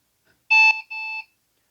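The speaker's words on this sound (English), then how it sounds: "we just had two beeps here" Two computer POST error beeps on power-on with no keyboard connected, a slightly longer one followed by a second, clear and close against silence.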